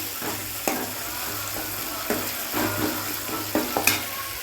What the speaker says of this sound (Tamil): நல்லா தக்காளி லைட்டாக வதங்கிட்டு கிண்டிகிட்டே இருக்கணும்